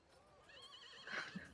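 A horse neighs and whinnies once, a short, faint wavering call rising in pitch and ending with a brief snort, heard alone in a quiet room.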